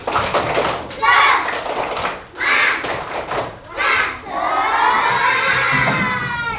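Classroom children performing a rhythmic clapping chant, tepuk semangat, shouting in unison between bursts of claps, loud and close, ending in a drawn-out group cry.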